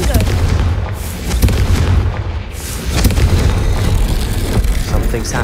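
A Confringo fire-curse blast in the video game Hogwarts Legacy, heard as loud, booming explosive bursts with dense low rumble that fill the clip, layered with game effects and some talk.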